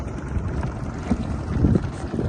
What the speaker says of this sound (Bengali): তারপরে নৌকা নিয়ে আইছি